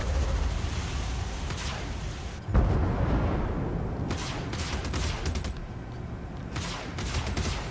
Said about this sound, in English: Missile Dude, I think your guns are doing more damage than mine.